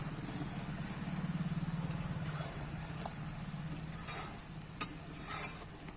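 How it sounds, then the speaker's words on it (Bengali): A thick raw mango pickle simmers in a pan with a low bubbling rumble, while a spoon stirs through it and gives scattered scrapes and light clinks against the metal. "এবার একটু নাড়িয়ে নেব"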